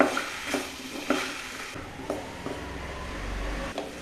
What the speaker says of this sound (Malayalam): ഇനി ഇതിലേക്ക് ആ കഷ്ണങ്ങളിട്ട് ഒന്ന് ഇളക്കുക